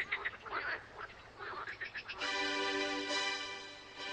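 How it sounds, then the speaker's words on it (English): Frogs calling in the verdant Tempe Valley, a chorus of rapid croaks in the first half giving way to a steady, loud sustained trilling drone in the second half, no voices. "And there are always the frogs for company."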